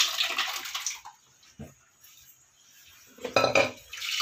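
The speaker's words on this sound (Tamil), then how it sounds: "இப்போ வந்து நம்ம பருப்பு ஊற்றிடலாம்." Cooked lentils are poured into a pot of sambar with a wet, splashing gush, followed by a pause, a brief clink, and then more sloshing and metallic clatter of the pot close by.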